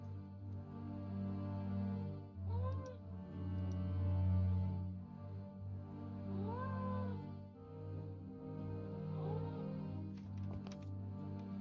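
A cat meows several times, rising and falling in pitch, over a steady droning musical background during the Nancy Drew: Mystery of the Seven Keys video game.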